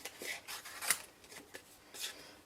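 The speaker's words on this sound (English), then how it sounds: "let's fussy cut this guy out" Scissors snipping close around a papercraft penguin with a red bobble for a plaid Christmas card, a series of soft, crisp paper cuts and rustles at an uneven pace, quiet and near.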